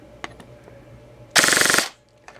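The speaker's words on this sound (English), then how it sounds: "let's try a full auto burst on here." An airsoft gun fires one short full-auto burst of about half a second, a rapid, loud mechanical rattle of shots at roughly 24 rounds per second, set between quiet handling clicks before and after.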